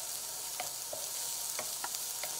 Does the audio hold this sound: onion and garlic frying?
yes